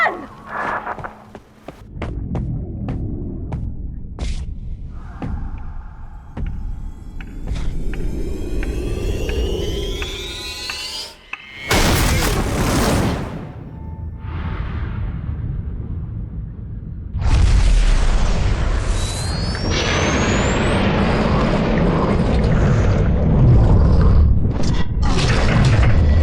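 Bombs go off in BioShock 2 as a series of loud, booming blasts and rumbling bursts over about 26 seconds, mixed with mechanical clanks and rising whistling tones, with heavy continuous rumble in the later half.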